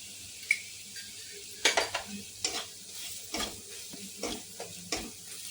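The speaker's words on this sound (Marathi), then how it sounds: "त्यामध्ये आपण हे सोयाबीन बारीक केलेलं ते मिक्स करू." Ground soybean being stirred into coriander powder and red chili spices in a pan, with a soft sizzle and intermittent scraping clinks of a utensil against the metal, quiet and close.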